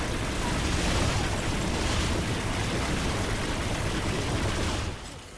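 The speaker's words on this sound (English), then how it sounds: "Look how many bullets it just throws out" Rapid weapon fire from the video game Remnant 2 pours out as a dense, continuous roar of shots at close range, then cuts off abruptly near the end.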